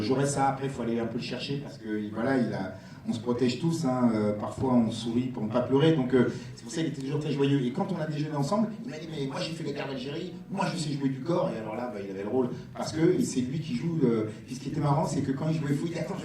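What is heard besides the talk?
None of the usual background noises is heard.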